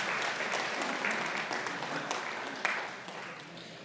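A church congregation at a Sunday service at Seogang Church claps in a dense, continuous wave of applause, many hands together filling the room at even volume, with no talk over it.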